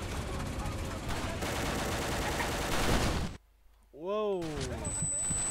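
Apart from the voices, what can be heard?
tank firing in video game Vietcong 2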